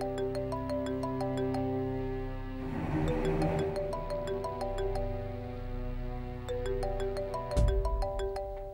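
A phone rings unanswered in a Pakistani TV drama scene, its looping tonal ringtone melody repeating steadily and prominently before a brief thump near the end.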